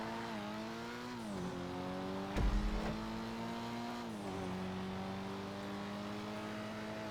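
Dinka Jester RR sports car in the GTA video game, engine revving and shifting steadily with a sliding tire skid and a thump midway, loud and alone without talk.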